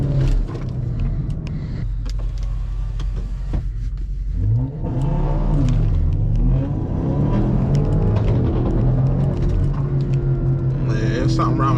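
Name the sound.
car engine revving and accelerating in a street race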